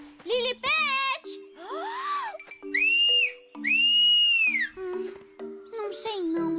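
Animated cartoon character whistles in bright, sliding tones that rise and fall, broken up by childlike babbling voices, loud and close, with several separate whistled phrases over a faint background hum.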